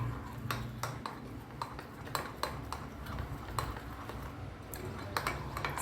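Fish roll batter is mixed in a bowl, a quiet run of irregular clinks and taps from the utensil against the side, with faint background noise throughout.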